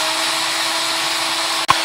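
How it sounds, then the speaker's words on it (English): A power drill bores a hole into a tough piece of material, its motor whirring at a steady, loud pitch that ends with a single sharp click. "so I'm going to drill a hole into it."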